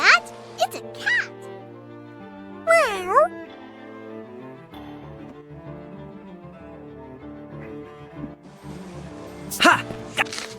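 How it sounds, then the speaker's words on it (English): Cartoonish cat meows from The Adventures of Elliot video game, several pitched, bending calls at the start, middle and end, loud over a bed of game music and sound effects. "You hear that? It's a cat!"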